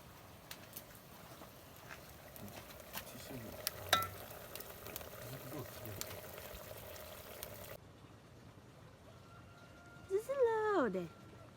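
Soft, steady sizzle of food frying in a pan in a rural kitchen in Phek, Nagaland, faint under background noise, with a few clinks, and bird calls near the end.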